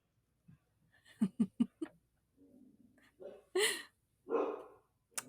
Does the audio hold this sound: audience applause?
no